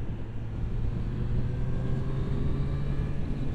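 A Triumph Street Triple 765 RS motorcycle rumbles with steady exhaust and induction noise, a continuous low, droning engine tone under wind rush while riding.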